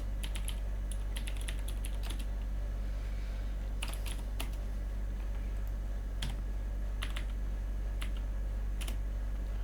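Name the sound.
typing on a computer keyboard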